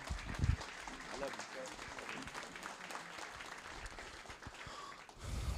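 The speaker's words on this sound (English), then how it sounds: "Can y'all clap it up for him?" Audience at a community conversation event in Iowa City claps for a pastor, fairly quiet scattered applause heard from a distance with some voices mixed in.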